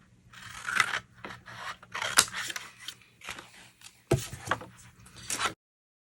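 Paper is cut with scissors in several short snipping and sliding passes, crisp and close, with brief pauses between cuts and no talking.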